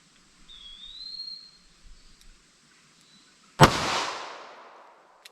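A .32 H&R Magnum revolver with a 1.875-inch barrel fires a single sharp, loud shot into ballistic gel, its blast decaying over about a second after a quiet stretch with a faint high whine.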